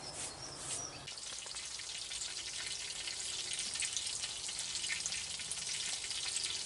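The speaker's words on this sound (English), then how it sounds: "Once that fat starts getting hot, it starts sizzling away." Grey squirrel meat frying in hot fat on a stove at medium-high heat, a dense, steady crackling sizzle with constant bright spitting pops and no voices.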